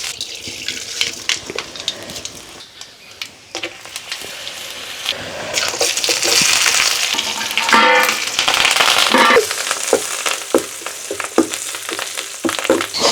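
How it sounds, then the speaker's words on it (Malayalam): Oil heats for tempering mustard seeds in a home kitchen, with a loud, close sizzle and clatters of stirring and utensils. A burst of spluttering swells in the middle and then settles into a crackling fry. "അപ്പോൾ കടുക് വറുക്കാനായിട്ട് അത് എണ്ണ ഒഴിക്കുവാണ്."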